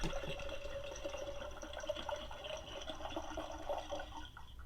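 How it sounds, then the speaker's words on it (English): A toy kitchen fridge's water button plays a soft, steady electronic effect of water pouring into a glass, running evenly throughout at low volume. "The other button makes the sound of water pouring into your glass."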